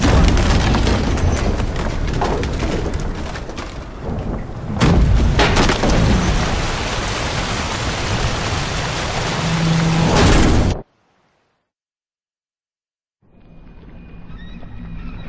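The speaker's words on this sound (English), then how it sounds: "Didn't bargain for no storm." Storm at sea in The Witcher 3: Wild Hunt, a loud dense roar of wind, rain and waves with thudding booms, cutting abruptly to silence and then a quieter ambient rumble.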